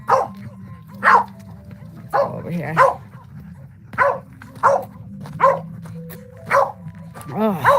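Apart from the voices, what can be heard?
dog barking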